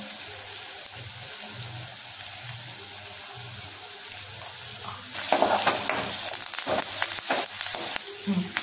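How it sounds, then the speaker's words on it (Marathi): Vegetables fry in a pan, gavar beans and potato in a dry Maharashtrian bhaji, as asafoetida is stirred in: a low steady sizzle, then louder scraping and clattering stirring strokes with crackling oil partway through. "हिंग टाकून छानपैकी हलवून घ्यायचं"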